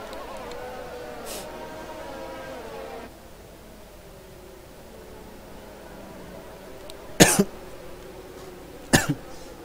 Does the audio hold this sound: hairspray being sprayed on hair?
no